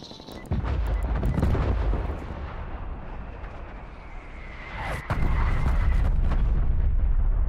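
Called-in killstreak artillery strike in a competitive shooter match, a dense run of heavy booms and rumbling blasts that swell and roll continuously, with a sharper burst near the end and no talk over it.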